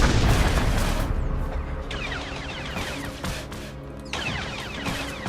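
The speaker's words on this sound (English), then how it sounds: "I hear gunfire." Gunfire and booming blasts in the Star Wars: The Old Republic video game, a dense, loud barrage of shots and explosions in an open city area, rolling on continuously with sharp bursts.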